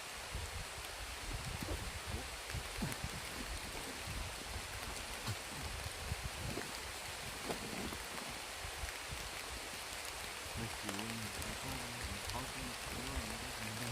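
Heavy rain pours steadily onto a forest during an overnight stay in the woods, a dense continuous hiss of drops on leaves and surfaces, close and loud throughout with no voices.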